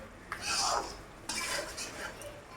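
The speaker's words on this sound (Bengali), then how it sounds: "এখন আমি ভালো করে কষিয়ে নিচ্ছি।" Spices being stirred and sautéed in a pan for a Bengali mixed vegetable and prawn dish: two close bursts of scraping and utensil clatter against the pan, with soft sizzling underneath and no talk.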